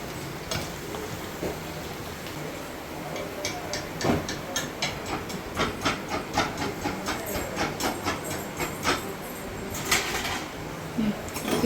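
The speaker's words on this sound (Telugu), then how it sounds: "ఇక్కడైతే గుమ్మడి వడియాలు వేయిస్తున్నాను" Pumpkin vadiyalu, sun-dried pumpkin fritters, frying in hot oil, giving a steady close sizzle and hiss with crackling pops throughout, with no talk.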